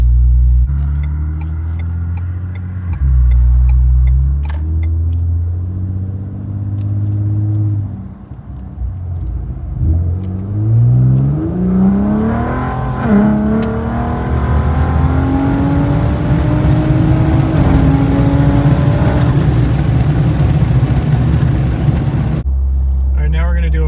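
A modified Ford F-150 pickup with a 3.5 EcoBoost engine accelerates hard in sport mode, heard from inside: a loud rising engine drone climbs through shifts with turbo whine, under occasional talk from the occupants.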